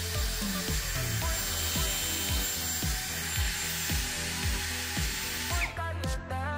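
A power drill fitted with a wire brush attachment scrubs and polishes metal eyelets on a DIY foldaway table, whirring steadily with repeated rhythmic scraping pulses, close and alone, cutting off near the end.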